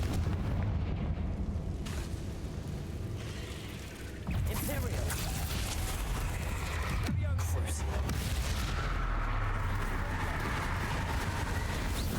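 Confringo fire spell in Hogwarts Legacy, a booming explosive blast followed by rumbling, with sustained low game noise around it and a short dip before a second heavy impact.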